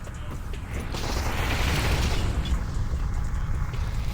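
A grenade goes off in a video game as a deep, rumbling boom that swells and lingers with a broad roar, then fades into a steady wash of noise.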